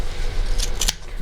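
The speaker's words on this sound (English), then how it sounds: "you can do this with a knife or with good quality fabric scissors" Fabric scissors trimming pool table cloth: two quick, crisp snips close by, a fraction of a second apart, over a low background hum.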